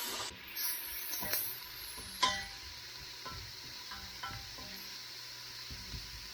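Onions fry in oil in a pan, a soft continuous sizzle with faint clicks and an occasional utensil tap, heard alone without talk.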